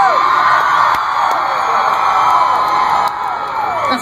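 A festival crowd of women screams and whoops at a set at Governors Ball 2014, a loud sustained wall of high shrieks filling the whole stretch, with faint music beneath.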